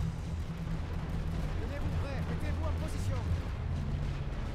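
Gunfire and artillery in the video game The Great War Western Front, muffled booms and distant shots rumbling under a game soundtrack, with talking over them.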